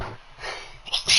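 A single short, sharp sneeze bursts out near the mic during a casual podcast chat, a quick breathy explosion with no words spoken.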